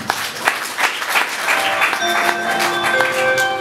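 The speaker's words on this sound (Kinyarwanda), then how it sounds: "Wakomera amashyi menshi Imana." A church congregation claps during a service, a loud burst of applause with a few sharp claps standing out, while faint sustained tones ring through the second half.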